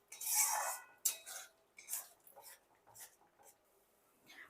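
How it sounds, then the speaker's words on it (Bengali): Spice paste being stirred and fried in a pan (kadai) for aloo dum, with scattered spatula scrapes and clinks against the metal, loudest at the start and fading into intermittent quiet strokes. "মশলা ধোয়া জলটা দেওয়ার পর এখন ভালো করে কিন্তু কষিয়ে নেব।"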